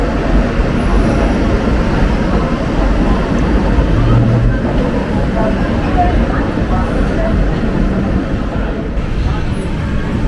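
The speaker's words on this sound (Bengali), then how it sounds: "ট্রেন সাতরাগাছির কাছাকাছি পৌঁছে গেছে" An Ispat Express train nears Santragachi with a steady, loud rumble of wheels and carriage noise filling the whole stretch, while voices talk over it.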